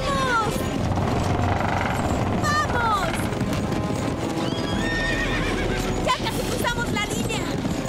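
Horses gallop and neigh in a Spanish-language animated children's series about gladiators. Several loud whinnies rise over rapid clip-clopping hooves, mixed with shouting voices and a crash.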